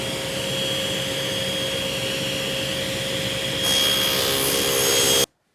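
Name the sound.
saw cutting cabinet side panel to exact length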